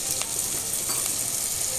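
Chicken pieces frying in hot oil for shawarma, a steady soft sizzle with faint crackles, continuous and close, no voices.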